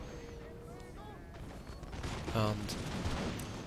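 Artillery and musket gunfire from a Darthmod Total War battle, a burst of booming shots peaking mid-clip over a steady roar of battle noise, with someone talking faintly at the start.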